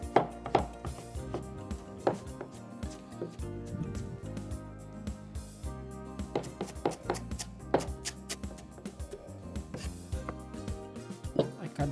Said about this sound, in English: We chop the avocado.